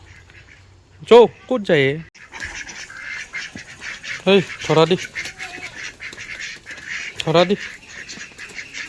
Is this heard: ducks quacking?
yes